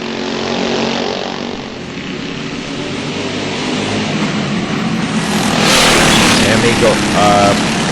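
Go-karts race around a backyard speedway at Galletta's during a 40-lap event, their engines making a continuous buzzing drone that swells louder and closer near the end.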